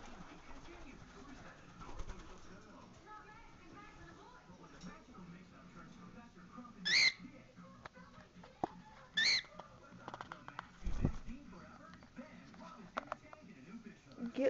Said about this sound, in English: It's my bird.